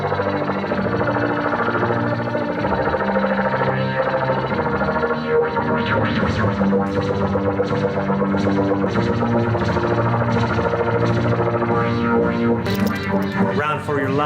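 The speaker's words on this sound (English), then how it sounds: "Let's do one last" Alien sound effect in a District 9 soundtrack style, a dense distorted and chorused drone with warbling, scratchy textures and echoing swells, loud and continuous throughout with no pauses.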